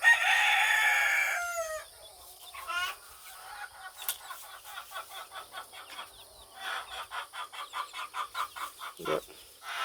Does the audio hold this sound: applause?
no